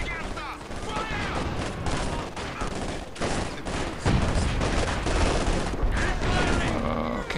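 Troops firing in the World War II strategy game Company of Heroes 2, with steady overlapping rifle and machine-gun fire and booming shots through a busy battle, soldiers shouting over the din.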